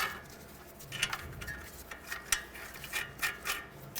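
Ratchet clicking as strut nuts are tightened on a 2007-2010 Chrysler Sebring front strut, a series of short close ratcheting bursts with brief pauses between them.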